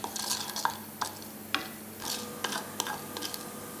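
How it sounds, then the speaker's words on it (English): Black gram lentils fried on a low flame and stirred in a pan for ridge gourd peel chutney, a soft sizzle beneath repeated scraping strokes of a spoon against the metal, close and free of speech. "Fry these lentils on low flame till they start changing their color."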